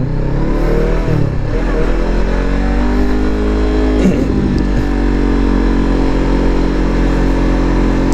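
A Honda CBR500R motorcycle with its stock exhaust, the engine droning loud and close with rising and falling revs and a couple of quick throttle sweeps.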